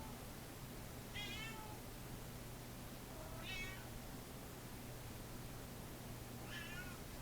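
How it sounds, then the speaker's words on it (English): A pet cat meows three times, spaced a couple of seconds apart, each call clear but moderate over a steady low background hum. "my cat also missed me tremendously,"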